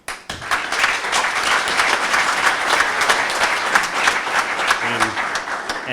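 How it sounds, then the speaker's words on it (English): At a memorial gathering, a room of people gives a warm round of applause for a speaker, sustained and fairly close with individual claps standing out, and a voice murmurs near the end. "I ask you a warm round of applause to Mel McMorrow"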